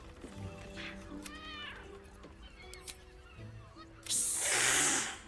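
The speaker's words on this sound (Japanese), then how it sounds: "なんだこの猫は。" A cat meows a few times in Baldur's Gate 3, mid-loud among game sounds, while a voice talks, and a loud hissing burst comes near the end.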